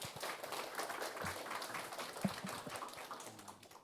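Faint, scattered audience clapping at a corporate job talk, soft and distant throughout.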